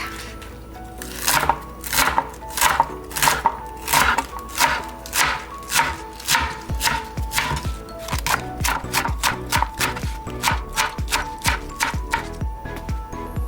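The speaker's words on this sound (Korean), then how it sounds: "오늘은 이렇게 썰어서 전을 부쳐보겠습니다" Rapid knife chopping of napa cabbage on a cutting board for cabbage pancakes, steady close strikes that speed into a quicker, denser rhythm partway through, with no voices.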